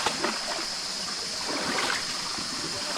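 A mountain stream rushes over rocks near pools, a steady close wash of flowing and splashing water that holds level throughout with no voices over it.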